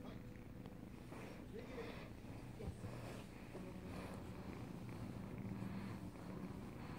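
A small cat purrs close by in a continuous, low, rumbling drone held at an even level throughout, faint in volume, with a few soft handling noises over it.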